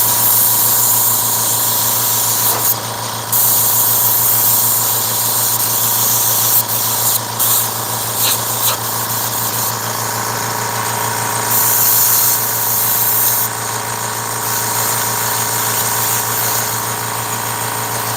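An airbrush sprays paint onto a hoodie with a loud, continuous hiss over a steady humming drone. Brief dips and cut-outs break up the flow as the spray is stopped and restarted.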